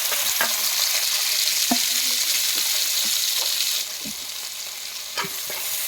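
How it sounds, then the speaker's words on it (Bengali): Chopped onions frying in a little oil with cumin in a pan, a steady close sizzle throughout with occasional stirring clicks, the hiss easing slightly partway through. "পেঁয়াজ কুচিগুলো দিয়ে একটু ভাজা করে নেবো।"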